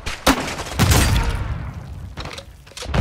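Bursts of gunfire in the video game Call of Duty: Modern Warfare 2, with sharp cracks and heavy thumps firing in quick, uneven clusters at fairly close range.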